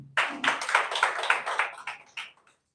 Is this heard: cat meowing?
no